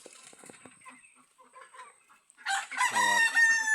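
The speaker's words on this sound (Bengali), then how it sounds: "খাঁচার ভিতরে, খোপের ভিতরে, বাইরে মাশাআল্লাহ তার ভালো দেশি মুরগি হয়েছে" Native chickens in a backyard coop, with a rooster crowing loudly and close up in one long call near the end, preceded by softer clucking and scattered hen noises.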